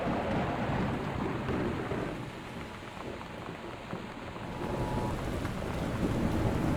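Thunderstorm ambience from the video game Gone Home, with torrential rain and high winds: a dense, steady downpour hisses on surfaces while low thunder rumbles beneath, swelling again toward the end.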